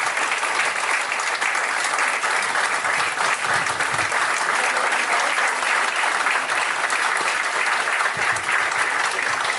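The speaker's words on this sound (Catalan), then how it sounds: "un fort aplaudiment a David Obrer" A concert audience applauds the director of the Harmonia choir, a dense, steady wash of clapping that stays loud and even throughout, with no talk over it.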